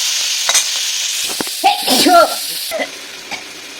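Sliced onions fry in hot oil for a fish-oil chorchori with greens and vegetables. A steady close sizzle runs throughout, broken by scraping stir strokes in the pan.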